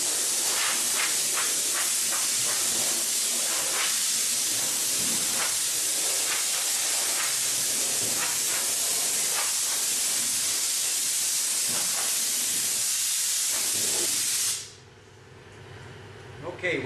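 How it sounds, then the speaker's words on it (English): A long, steady hiss of compressed air blowing off a metal aircraft wing for about fourteen seconds, with faint voices underneath, then cutting off abruptly to quiet room noise. "we just finished blowing and wiping the wing off"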